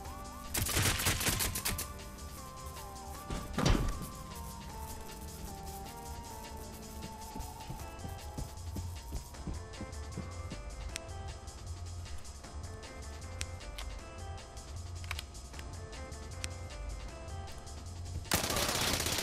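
Gunfire rings out in the video game Level Zero: Extraction. Sharp bursts come at the start, again a few seconds later and at the very end, with a faint, busy game backdrop in between.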